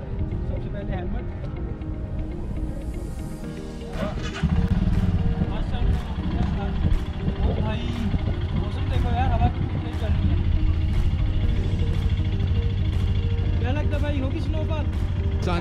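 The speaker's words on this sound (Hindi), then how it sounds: "तो यार अभी कर लेते हैं अपनी बाइक्स को वार्म अप स्टार्ट।" Royal Enfield Himalayan motorcycles start and warm up in snowy Manali, a steady loud engine rumble that steps up in level partway through and holds at idle, with no talk over it.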